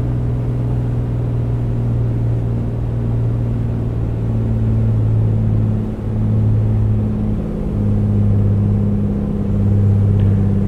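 An A2A Piper Comanche 250 engine in Microsoft Flight Simulator, throttled back to about 2,000 RPM on descent near Mount Shasta, gives a steady, loud droning hum with slight shifts in pitch throughout, and no voices.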